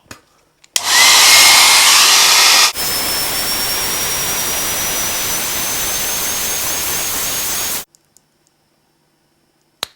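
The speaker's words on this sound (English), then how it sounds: "for it you'll be requiring a hairdryer" A hair dryer switches on with a loud rush of air, briefly higher then settling into a steady whirring hum with a faint rising whine, before cutting off abruptly.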